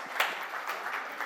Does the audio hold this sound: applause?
yes